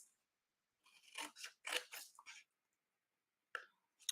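Scissors snip along the score line of a paper treat-basket piece, a quick run of close, crisp cuts followed by a pause and two more isolated snips.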